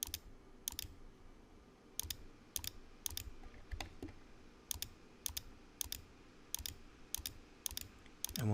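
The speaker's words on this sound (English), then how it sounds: "all I'm going to do is just start coming down through and clicking all of these" A computer mouse clicking repeatedly while points are selected in a subdivision lot modeling program, giving crisp, close, quiet clicks in irregular pairs and singles over a faint room hum, with no talking.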